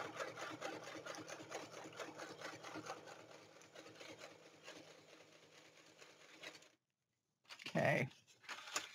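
A sewing machine stitches a junk journal in a fast, steady whirring chatter for several seconds, close and fairly quiet, then stops; a brief voice follows after a pause.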